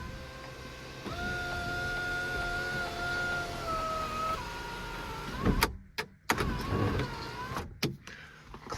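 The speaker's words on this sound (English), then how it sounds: "Clicking noise you hear periodically is a little timing wheel that makes the motor switch between" Audi 5000 CS Quattro sunroof motor running with a steady electric whine and shifting pitch, followed by a cluster of sharp clicks from its timing wheel, close and fairly quiet.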